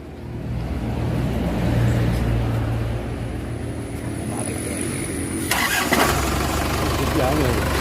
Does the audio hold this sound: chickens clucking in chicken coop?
no